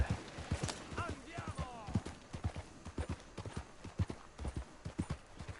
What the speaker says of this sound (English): That's a fine horse.